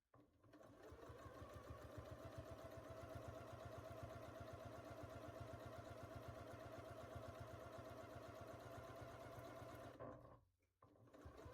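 Sewing machine stitching quilt fabric pieces together, a loud steady rapid rattle running for about ten seconds, then stopping briefly before starting again; no talk.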